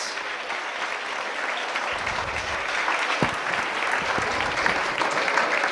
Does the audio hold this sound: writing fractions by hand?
no